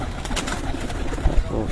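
Pigeons at a loft in Head Marala, Punjab, kept for top high-altitude flying, with soft cooing and wing flutters amid outdoor noise over roughly two seconds, a couple of low thumps near the end.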